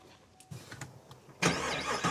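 Dump truck engine starting up in a rural setting, a faint rumble first and then a loud, broad engine roar that holds steady for the final second, close by with no talk.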